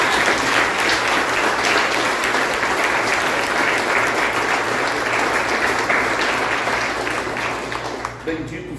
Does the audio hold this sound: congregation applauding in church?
yes